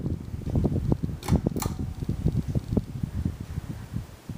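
A 52-inch Four Seasons Venair ceiling fan turns at medium speed, a soft close whooshing with a regular rhythmic blade pulse and a couple of faint ticks.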